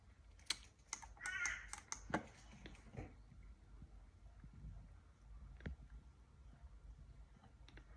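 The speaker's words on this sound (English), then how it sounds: "What are the crows doing, Charlie?" Crows calling outside while nest-building, carrying sticks: a few harsh caws in the first three seconds amid scattered clicks and taps, then fainter sporadic sounds against a quiet background.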